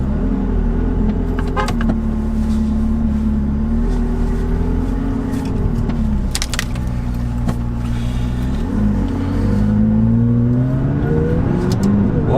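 A McLaren sports car drives with a steady, close engine drone from inside the cabin, its pitch rising and falling gently through gear changes and a brief rev near the end.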